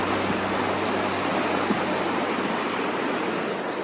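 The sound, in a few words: Bright Angel Creek flowing water, Grand Canyon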